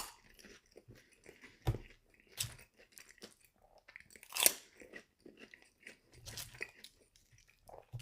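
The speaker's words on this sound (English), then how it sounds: "some of these jalapeno cheesy bites" Burger King jalapeno cheesy bites eaten up close, with sharp, irregular crunches and bites separated by quieter chewing and pauses, one loud crunch standing out midway.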